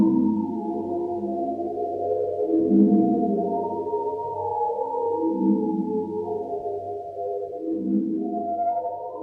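Daphne Oram's 1957 all-electronic score for the play Amphitryon 38: slow, wavering synthetic tones gliding and swelling in layered drones, moderately loud and alone.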